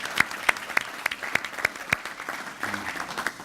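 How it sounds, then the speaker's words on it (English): Applause from a crowd at a Rotary club meeting, with a series of sharp, loud claps standing out over steady clapping, then thinning toward the end. "Give them a big round of applause"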